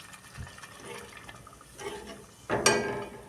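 Water poured into a pan of fish curry (machli ka salan) during cooking: a soft trickle, then a louder, splashing gush near the end, close by and without talk.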